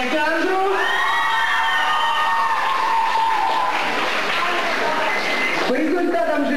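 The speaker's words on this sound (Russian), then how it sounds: "Еще раз бурные аплодисменты Клебину Александру." Crowd at a 2001 school concert at a St. Petersburg school bursts into applause mixed with cheering, whoops and children's shouts, loud and sustained throughout, with excited voices calling out over the clapping.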